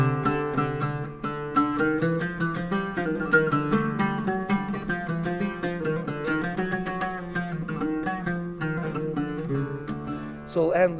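An improvised flamenco-style melody on a five-note scale, played as a steady run of bright plucked notes that rise and fall for about eleven seconds, with a brief rising flourish at the end and no talking.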